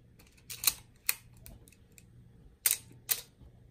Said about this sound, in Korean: 필름을 한장 감고 셔터를 누르면 사진이 찍히는 거죠